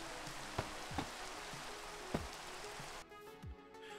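Steady rain hisses across the soundscape of the video game Minecraft during survival play, with a few soft, low thumps early on before the rain noise thins out near the end.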